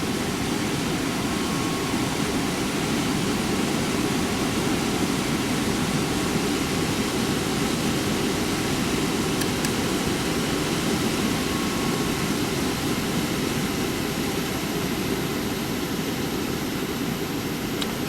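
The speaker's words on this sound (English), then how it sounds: "you can see the motor ramping up" An HVAC unit's motor runs with a steady, broad whooshing roar that holds constant and loud the whole time, with no talking.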